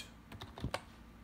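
Several crisp key taps on a Mac computer keyboard, close and fairly quiet, spaced irregularly over about a second with no talking.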